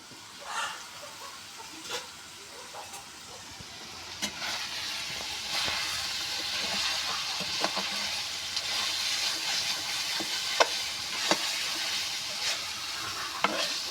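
Mutton frying with pumpkin in a pan makes a continuous close sizzle, with scattered clicks and scrapes of stirring throughout and a few sharper knocks near the end.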